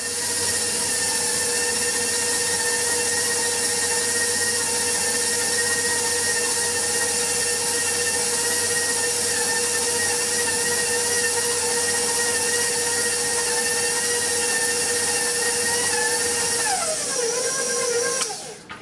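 Stand mixer kneading challah dough, a steady loud motor whine with a constant droning hum running throughout, winding down briefly at the very end.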